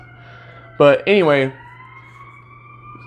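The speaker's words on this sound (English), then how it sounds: "Excuse the siren." An emergency vehicle siren in downtown St. Paul wails steadily in the background as a distant rising tone, heard under a brief spoken phrase from a nearby man.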